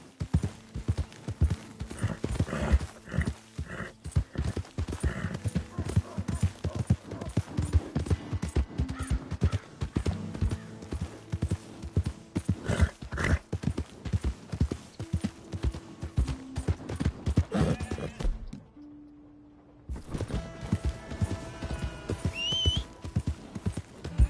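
Rhythmic hoof clip-clops of a horse moving steadily over ground in the video game Red Dead Redemption 2, with game music and effects around them, briefly dropping out near the end.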